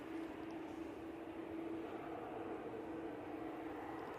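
An Emirates Airbus A380 rumbles at an airport, a low, steady engine roar with a faint sustained hum on top, distant and unchanging throughout, with no voices.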